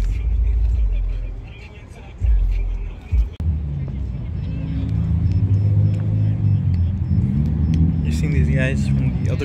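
A Porsche GT3 RS engine rumbles low at a cars-and-coffee meet, with a deep idle, a brief throttle blip and passing-car noise, loud and close, while people talk over it.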